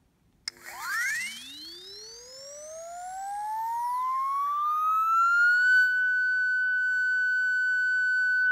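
The Blower air blower app plays through an iPhone speaker at full volume, a pure electronic tone that sweeps steadily upward in pitch over several seconds and then holds a level, steady whine.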